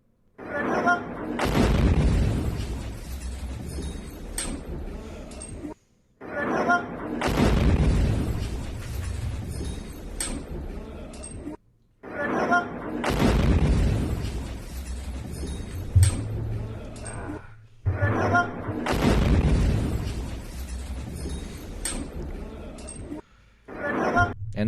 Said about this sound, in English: An Iranian missile has struck the Dimona area in southern Israel during a new wave of launches from Iran on Saturday, with video showing a direct impact